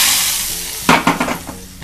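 Hot oil tempering with garlic poured into dal: a steady hiss meets liquid with a few quick splashing bursts, then settles into a fading sizzle.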